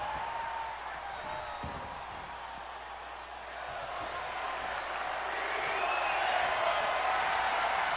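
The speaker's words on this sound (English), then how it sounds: "Crowd chanting, we want tables." A wrestling arena crowd during a Money in the Bank match, a broad roar of massed voices swelling toward the end, with a rhythmic chant faintly mixed into the noise.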